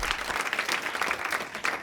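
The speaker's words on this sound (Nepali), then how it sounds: "मेरो लागि ताली प्लिज" Studio audience applause at a televised Nepal Idol singing competition, a brief dense burst of clapping at close range.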